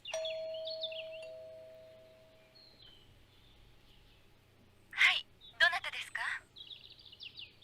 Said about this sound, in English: I'll ring the doorbell.